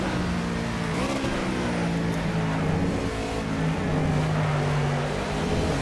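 A Ford Fusion NASCAR stock car in Project CARS at Watkins Glen drones with a loud, steady V8 engine note, the pitch rising and falling slightly as the car accelerates through gears, with no talk.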